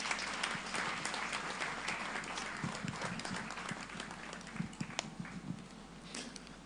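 Sustained audience applause at an evening memorial tribute and service of songs, a dense, steady wash of many hands clapping at moderate volume with no talk over it.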